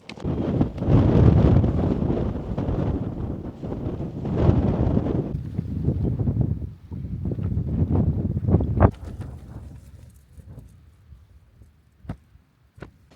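Strong wind buffets and roars against a trekking pole tent for several seconds, gradually easing into quieter gusts with a few faint clicks, with no talking.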